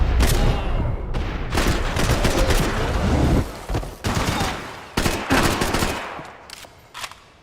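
Rapid automatic gunfire and bursts of shots in the video game Max Payne 3, loud and dense with short pauses between volleys, a firefight with no talking.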